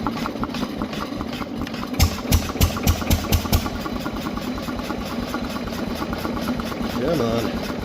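A Delco light plant engine running, a mid-pitched idling chug with a few louder knocking pulses early on. A voice speaks over the engine throughout.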